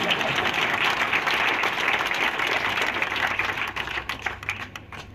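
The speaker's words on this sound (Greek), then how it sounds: "Χειροκρότημα." Concert audience applauds for a performance, a thick, continuous clapping that thins into scattered claps toward the end.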